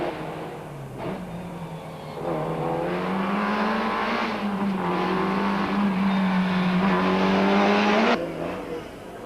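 Rally cars tear through downtown Ermelo streets on a 10-kilometre sprint stage, engines revving hard and climbing through gears with a loud, sustained nearby roar and no talk.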